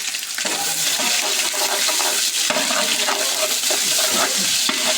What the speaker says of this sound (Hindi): थोड़ा सा इसको भून लिया साथ मसाले को और पेस्ट को